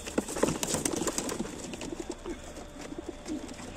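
Soft pigeon coos repeat through the clip amid a busy, rustling background, with no one speaking.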